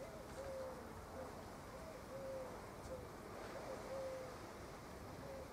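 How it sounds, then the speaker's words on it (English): Faint repeated bird calls, short whistled notes every second or so, drift over a steady wash of background noise outdoors. "Listening to the birds"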